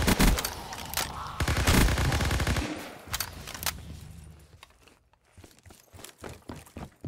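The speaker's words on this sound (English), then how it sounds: "Tommy gun." A Tommy gun firing in Call of Duty Zombies, loud rapid automatic bursts up close that fade into scattered quieter clicks and steps.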